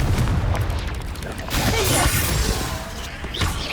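Magical Confringo spell blasts in Hogwarts Legacy, loud booming explosions with crackling, shattering debris and swooshes in rapid succession, dense and close.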